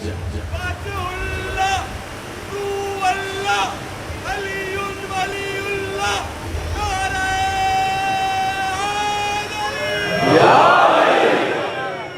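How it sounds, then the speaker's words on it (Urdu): A crowd at a religious majlis gathering chants slogans loudly and rhythmically in unison, the repeated calls swelling and then fading into a noisy wash of voices. "سلامت رہیں یہ نعرے لگانے والے، مولا ان کی آوازوں کو سلامت رکھے"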